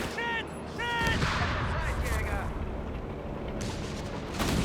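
Mortar and battle fire in Company of Heroes 3, low rumbling booms and blasts beneath a continuous din of combat, with brief tonal unit callouts and a voice talking.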